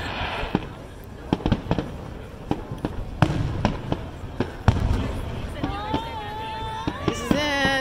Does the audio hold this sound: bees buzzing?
no